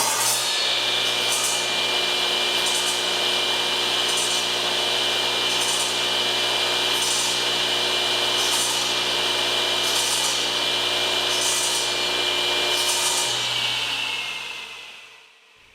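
A Delta 36-725T2 direct-drive table saw rips through wood with a loud, sustained whine and bright cutting noise. A faint regular pulse runs underneath the cut before the blade winds down at the end.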